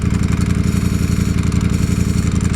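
Ducati Streetfighter V4 engine running close and loud, a steady rhythmic throb with the metallic clatter of its dry clutch rattling through it, ridden through the Brickell district streets.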